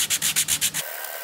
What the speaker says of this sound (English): you will need your sandpaper and sanding block. Get the underside, make sure it's the right one, and then we rough that up.